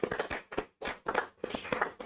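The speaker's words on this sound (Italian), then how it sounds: "ringraziamo con un altro applauso Daniele Meroi e Alessia Bertocchi," Scattered hand clapping from a small group at a youth karate event in Venice, arriving in short uneven bursts with brief pauses between them.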